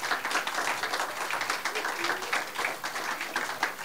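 An audience at a student film festival claps steadily, a dense patter of many hands that continues without a break.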